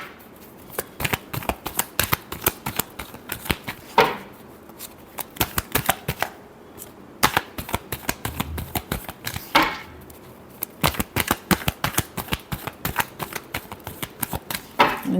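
Tarot cards are shuffled again and again in quick riffling bursts, close and crisp, separated by short pauses.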